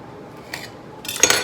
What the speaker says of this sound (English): I'm going to go ahead and cut my tortilla into wedges.